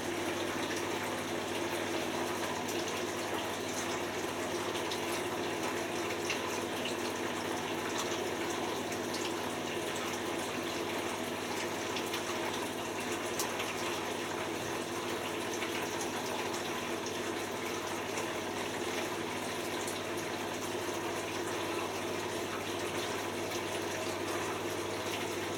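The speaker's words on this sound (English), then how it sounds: "You hear the water going and then you hear the pump going." Hoover A3060 washing machine on a 95°C white cotton economy wash, with water flowing steadily and the drain pump running as a continuous, fairly loud hum and gush throughout, no voices.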